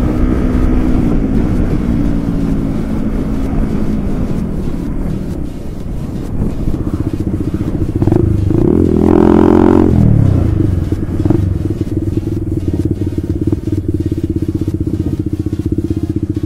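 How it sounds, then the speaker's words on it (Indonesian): A motorcycle fitted with an aftermarket exhaust idles steadily nearby with a throaty, buzzing drone, then revs sharply once near the middle before settling back to a steady idle, with some wind noise. "Ini motornya udah enak, knalpotnya tambah enak lagi."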